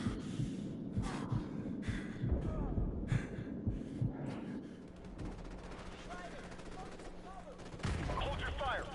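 Rapid bursts of gunfire with low booming impacts fill a Call of Duty 4 Modern Warfare Remastered battle, dense and loud at first and then thinning, with a voice calling out over the din.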